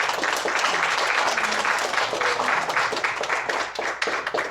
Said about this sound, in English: Shall we give the Lord a round of applause this morning?